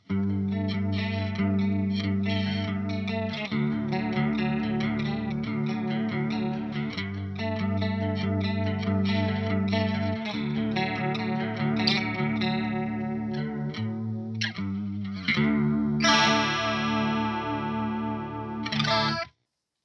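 Electric guitar through a Pogolab chorus pedal, a Boss CE-2 clone, giving a bubbly, warbling shimmer to strummed chords and picked phrases that play steadily and closely, ending with a bright rising flourish, with no voices.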